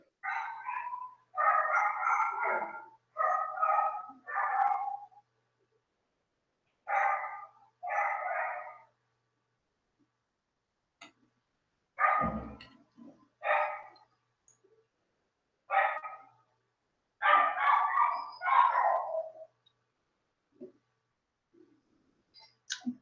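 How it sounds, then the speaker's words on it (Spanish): A neighbor's dogs barking in short clusters of two to four barks separated by silent pauses, somewhat distant and moderately loud. "Son los perritos del vecino que no dejan de ladrar."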